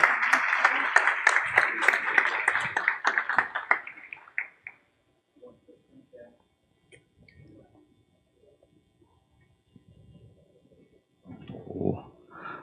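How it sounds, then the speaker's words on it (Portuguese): Audience at a braille book launch applauding people invited on stage, steady close clapping for about four seconds that fades out, followed by quiet shuffling and then a voice talking. "Palmas para todos eles, pessoal, por favor."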